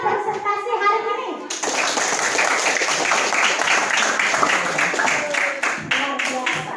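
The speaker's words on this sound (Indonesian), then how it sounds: "Tepuk tangan untuk kalian semua yang sudah presentasi hari ini." Children in a classroom clap for classmates after their presentations, a teacher's voice first, then a burst of lively, uneven clapping that continues with children's voices mixed in.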